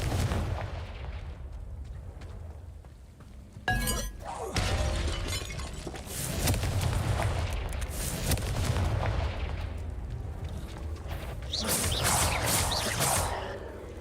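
Confringo blasting curse in a Harry Potter video game: a sharp, loud explosive crack and shatter, then rumbling crashing debris and another cluster of bursts near the end, with no talking.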